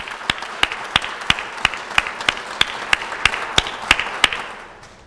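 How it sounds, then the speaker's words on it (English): Sharp, evenly spaced claps ring out at a hometown heroes recognition event, about fifteen crisp beats in steady rhythm that fade at the end. "I think all of you deserve a great big round of applause"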